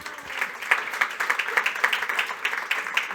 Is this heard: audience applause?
yes